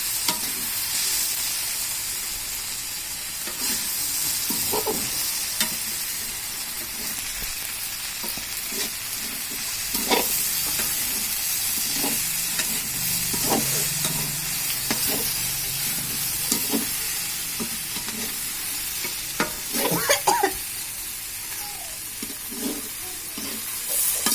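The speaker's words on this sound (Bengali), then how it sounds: "এই দেখুন কি সুন্দর সিজেছে ভেন্ডিটা" Okra frying in a pan, a continuous loud sizzle and hiss with intermittent scraping clicks of a utensil stirring, close and steady throughout, no talk.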